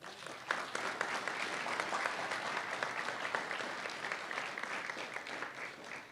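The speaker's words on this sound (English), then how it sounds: "You can clap for that part." An audience at a men's symposium keynote breaks into applause, steady close clapping from many hands with a faint murmur beneath.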